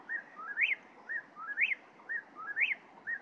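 Close, clear whistled whippoorwill calls repeat three times in quick, even succession, each phrase rising sharply at the end.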